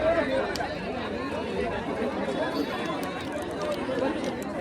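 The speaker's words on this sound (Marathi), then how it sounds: "अशी प्रचंड गर्दी झालेली आहे." A large crowd gathers at a bullock cart race, a dense continuous murmur of many voices mixed with nearby chatter, steady and moderately loud throughout.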